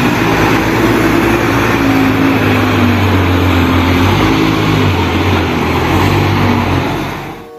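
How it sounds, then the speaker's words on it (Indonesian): A toy car plays a steady, loud engine-like drone with humming tones throughout, fading slightly at the end. "Wow, lihat teman-teman, yang ini mobil keren."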